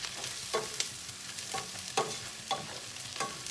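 Onions frying in a pan, a steady sizzle broken every half second or so by sharp scraping stirs, close up with no talking.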